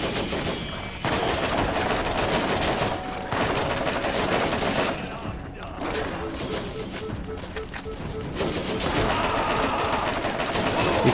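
Rapid automatic fire from a deployed Scorpio turret in the video game Borderlands, continuous chattering bursts with brief pauses between volleys.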